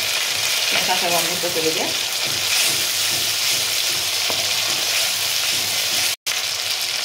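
Ginger and garlic paste, added after onion paste, sizzling in hot oil for a prawn malai curry; a steady, loud frying hiss runs throughout while a voice speaks briefly early on.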